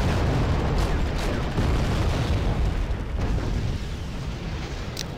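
A tank gun fires in a World War-era strategy video game, a heavy booming blast that rolls into a long, rumbling explosion, loud and close, slowly fading over several seconds with no speech.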